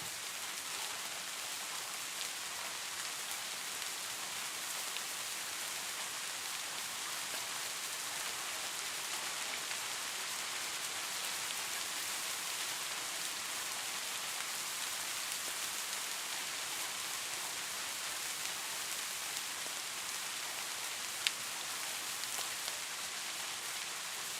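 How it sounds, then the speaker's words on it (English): Steady rain falling on a surface, a continuous broadband hiss that holds evenly for the whole stretch with no voices over it. "Right now, it should just be like rain sounds."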